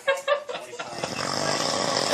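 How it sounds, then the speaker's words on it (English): Loud, rough snoring: a few strong rasping bursts at first, then a steady, noisy snore that swells and holds close to the listener. "That's a loud snore."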